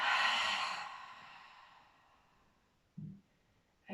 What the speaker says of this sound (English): And out of your mouth, exhale.